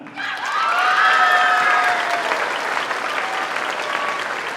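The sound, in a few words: audience applause at band concert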